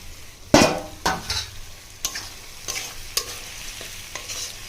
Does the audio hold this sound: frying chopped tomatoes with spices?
yes